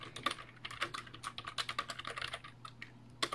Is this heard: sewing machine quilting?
no